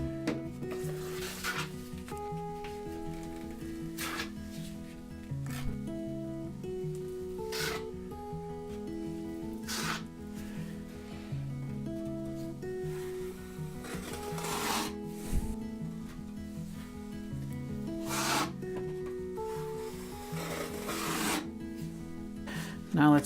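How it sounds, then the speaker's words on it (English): A drywall knife scrapes and rasps as it smooths joint compound across a wall, in repeated strokes heard under steady background music. "We're also going to use a wider knife in order to smooth out a wider area, which will eliminate a lot of these little ridges we had this time."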